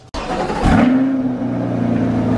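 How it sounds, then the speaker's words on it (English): A carbon-bodied BMW S1000RR superbike engine does a cold start: a brief crank, then it catches with a loud burst and settles into a steady, throbbing high idle, close by with no talk. "let's get a cold start on this and get the heck out of here"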